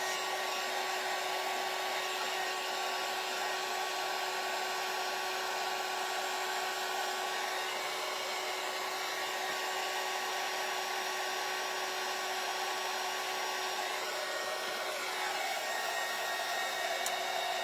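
A hair dryer blows continuously at close range to dry thick chippy paint and Mod Podge, a steady loud whooshing whine that never pauses, with no talking.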